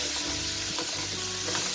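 Tomato and chili paste frying in oil on a medium flame for spicy Nepali potatoes, a continuous close sizzle with soft stirring sounds under it.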